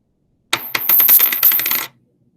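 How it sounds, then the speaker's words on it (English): A metal wire dropped onto a hard surface, giving a bright, jangly clatter of several quick rattling bounces over about a second and a half, close and loud, then quickly dying away. "That was the metal wire."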